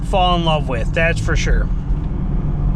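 A Jeep Gladiator Rubicon pickup truck drives with a steady low road and engine rumble throughout, while someone talks over it close by.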